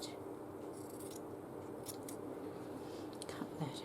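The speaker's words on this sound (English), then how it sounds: "cut that out" Scissors cut paper for a stitchery journal page, giving faint, scattered snips and rustles over a steady background hiss, close but quiet.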